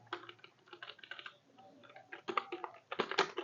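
Typing on a computer keyboard, quick irregular bursts of close key clicks with brief pauses between words, quiet and with no talking.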